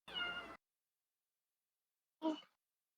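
Two cat meows, a drawn-out one first and a shorter one about two seconds later, clear and close against silence.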